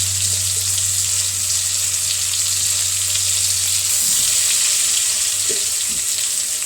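Water running steadily from a tap while something is washed in a kitchen sink during lunch preparation, a constant loud rushing hiss with a low hum underneath and no talking.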